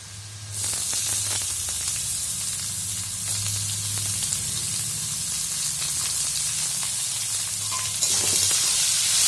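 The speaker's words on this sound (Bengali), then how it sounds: "এবারে বাসি ভাতটা ভাজার মধ্যে দিয়ে দেব।" Leftover rice sizzles and hisses steadily in a hot pan, with scraping stirring strokes throughout and no talking.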